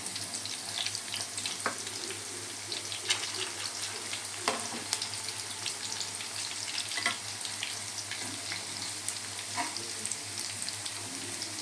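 Sweet corn pakoda deep frying in hot oil, a dense, continuous crackling sizzle with scattered sharper pops and an occasional faint stir, close and steady throughout with no voices.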